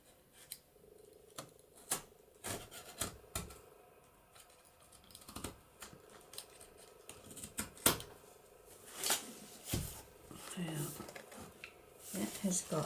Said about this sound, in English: I've got my blade, my knife here, and I thought that I would just cut this out